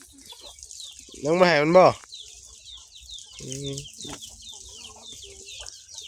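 Chickens cluck and squawk outdoors, one loud burst of cackling calls followed by softer clucks, with someone speaking nearby and a brief call over constant background birdsong.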